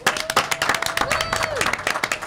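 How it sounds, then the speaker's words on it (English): A room full of people claps at a junior film festival panel, a burst of dense, even hand-clapping running throughout, with a sustained tone and a bit of voice mixed underneath. "Applause for you."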